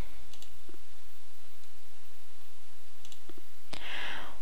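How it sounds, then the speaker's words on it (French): A few faint mouse clicks on an export-to-PDF button, quick soft ticks over a steady background hiss, with one sharper click near the end. "il vous suffit de cliquer sur le bouton « Exporter cette fiche en PDF »"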